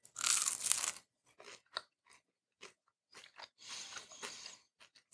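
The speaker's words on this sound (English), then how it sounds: "Now we'll move over to the Cosori, quite crispy all the way around. Give it a taste." Crispy air-fried meat from a Cosori air fryer is bitten and chewed up close: a loud crunchy first bite, then a string of shorter crisp crunches separated by brief pauses, with no talking.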